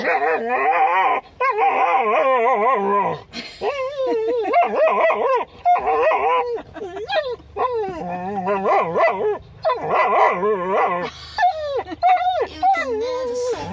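Small dogs yip, whine and howl almost continuously at close range in short rising and falling bursts, with brief pauses between calls.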